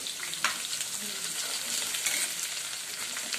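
Green chilies and ginger fry in a pan with a bright, steady hiss and crackle, close and fairly loud, with no one speaking.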